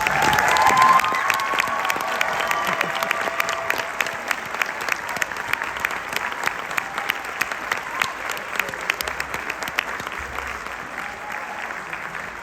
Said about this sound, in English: we can give them a round of applause, please.